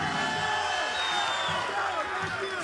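A crowd at a Diaz vs Masvidal open workout in Los Angeles, California cheers and whoops steadily throughout, a dense wash of voices with no clear pauses.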